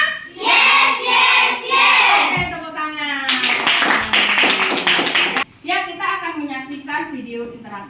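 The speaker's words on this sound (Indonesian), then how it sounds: "Oke, tepuk tangan." A fifth-grade class claps together, with loud rhythmic applause mixed with children's voices chanting and cheering over it.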